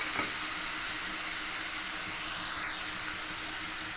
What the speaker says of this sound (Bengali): এবার এই মশলাটাকে তেল ছাড়া অবধি ভালো করে কষে নেব